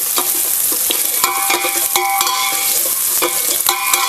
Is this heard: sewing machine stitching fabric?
no